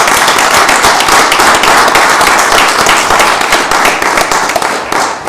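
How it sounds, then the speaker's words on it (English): Loud, close applause at a town council meeting in Tenafly, dense rapid clapping from a roomful of people that stays strong and then slowly begins to thin out toward the end. "I just want to give you guys a round of applause."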